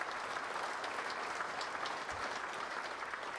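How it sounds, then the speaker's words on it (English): A crowd at a dirt modified racing hall of fame induction ceremony gives a continuous round of applause for owner Al Hankey, steady and fairly soft from start to finish. "How about a round of applause for him?"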